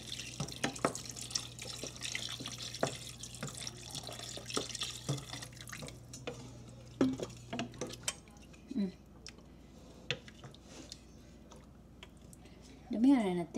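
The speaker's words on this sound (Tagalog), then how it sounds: "lagyan natin ng tubig." Tap water running into a cooking pot in a home kitchen, a steady hiss with splashing that fades after several seconds, followed by soft clinks of pots and utensils and a faint voice.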